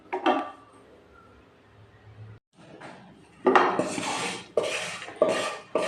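Oats laddu mixture being stirred in a metal vessel, with a few clinks of a spoon, then louder bursts of scraping and knocking against the vessel in short repeated strokes, close by and with no talk.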